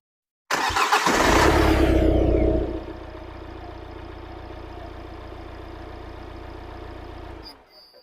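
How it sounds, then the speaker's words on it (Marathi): Kia Carens 1.5 litre CRDi diesel engine cranking and firing, a loud burst that revs briefly before settling into a steady, even idle for several seconds until it cuts off. "आता मी स्टार्ट करतो गाडी."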